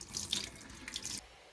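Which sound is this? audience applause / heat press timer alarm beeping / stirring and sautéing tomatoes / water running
water running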